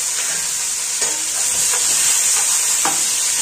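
Carrots and tomatoes sizzle in hot oil in a pan and are stirred, giving a bright continuous frying hiss broken by a few soft scrapes and clicks of the utensil.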